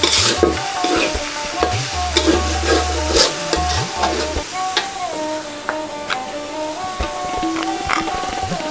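Broiler chicken bhuna stir-fried in oil and spices sizzles loudly while a metal spatula scrapes and clanks rhythmically against the pan, with sharp ticks and knocks scattered throughout.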